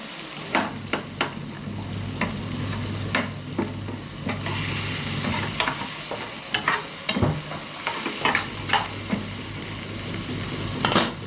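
Garlic, coriander and chili paste sautéing in a hot pan, a steady sizzle broken by repeated scrapes and clinks of a spoon stirring against the metal.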